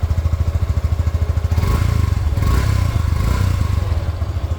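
Yamaha FZ 3.0 motorcycle idling nearby, a steady low exhaust thrum with rapid regular pulsing and light mechanical clatter, swelling a little louder midway as the throttle is touched; no talking.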